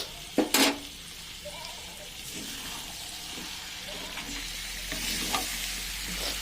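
Meat and potatoes frying with salt in a pan, a steady soft sizzle under occasional clanks and scrapes of a spatula stirring, fairly quiet and close with no talking.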